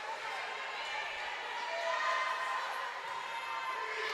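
Crowd noise in a gym during a high school volleyball match, a steady broad roar of cheering voices sustained throughout, swelling slightly midway.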